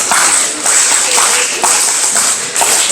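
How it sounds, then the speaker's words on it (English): A room of concert listeners claps together in a steady rhythm, bright repeated hand claps with strong beats roughly once a second, loud and close throughout. "And this side of the room, let's clap the rhythm."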